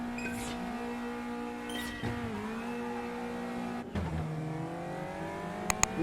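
A high-pitched Caterham racing engine in Automobilista 2 at Brands Hatch holds steady, then drops and climbs again through gear changes, buzzing continuously at moderate volume without any voices.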